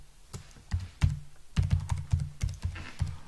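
Computer keyboard keys tapped in a quick irregular run while a username and password are entered for a university database login, close and clear with no talk.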